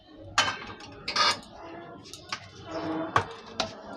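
A plate handled in a home kitchen while being greased with oil gives off several close clinks and scrapes of dishware at an irregular pace.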